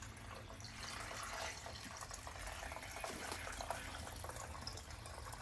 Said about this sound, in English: I'm just going to fill it up until the water's right to the level, right to the bottom of that basket.